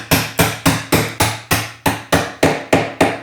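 A wide wood chisel driven by a mallet strikes the work in a steady series of about a dozen sharp, close, evenly spaced blows, each with a short ringing decay.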